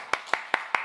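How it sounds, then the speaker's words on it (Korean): Four crisp hand claps at an even, brisk pace at a church small-group leaders' retreat, welcoming a speaker forward. Each clap is sharp and distinct against a quiet room, with no talk over them. "자 박수로 환영하겠습니다."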